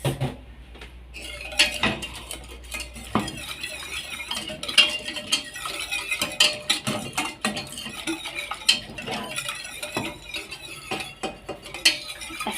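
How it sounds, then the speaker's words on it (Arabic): A spoon scrapes and clinks steadily against a pot while sugar, cocoa and starch are stirred into milk, with irregular close metallic taps and no talking. "وهقلبهم بقى كويس"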